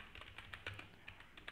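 Quick, light clicking of keys on a computer keyboard as a terminal command is typed, close and fairly quiet, with irregular taps over a brief moment.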